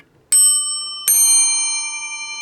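Two bright metallic strikes from an old telephone bell, each ringing on with a long sustained tone, loud and close.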